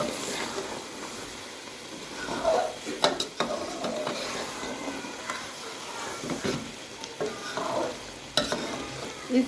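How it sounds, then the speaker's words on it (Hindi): A spoon stirs potato and egg bhujia in a pan, giving soft scraping and intermittent clinks against the metal over a low, quiet sizzle, with a few sharper knocks and no talking. "इस तरह इसका चम्मच चलाइएगा कि ये आलू टूटे ना"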